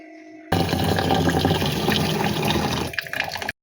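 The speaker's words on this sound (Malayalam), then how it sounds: "നാളെ പുലാവ് ഉണ്ടാക്കാൻ വേണ്ടി നമ്മൾ ഗ്രീൻ പീസ് വെള്ളത്തിലിടുവാണേ" Water pours steadily from a tap into a bowl of green peas set to soak for pulao, a loud continuous splashing rush that shifts near the end and then stops abruptly.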